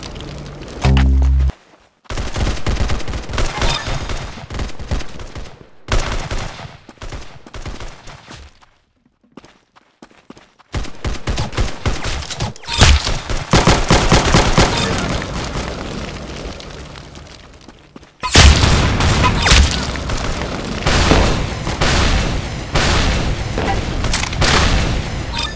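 Booming gunshots and explosions from the Roblox shooter Arsenal, a loud burst early, then repeated heavy shots and blasts in clusters, dense and near, with gaps of silence between.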